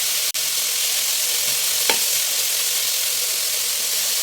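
Garlic and onion sauté together in a pan for pork pochero, giving a steady, even sizzle throughout with one sharp click near the start and a brief scrape partway through.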